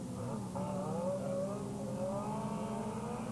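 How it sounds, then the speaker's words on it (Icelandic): Race cars driving on a very wet track, their engines droning and revving steadily at a distance with rising and falling pitch, continuous throughout with no talk. "Já, það var gaman að sjá þessa bíla á brautinni."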